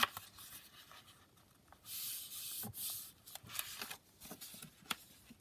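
Paper folded by hand for a junk journal, soft crinkles and rustling swishes with a few light taps, quiet and close, coming in short uneven bursts.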